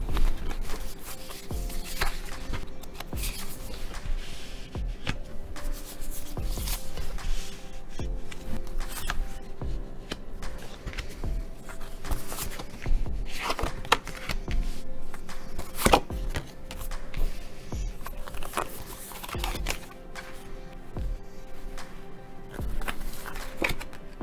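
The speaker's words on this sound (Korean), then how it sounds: "카드 오픈하겠습니다." Tarot cards are shuffled, tapped and laid out on a table in a quick series of soft, close scrapes and clicks, with faint steady music underneath.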